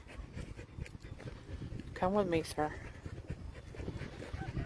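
A ranch dog pants steadily at a cattle ranch dog competition, its quick breaths close by and continuous beneath a voice speaking briefly.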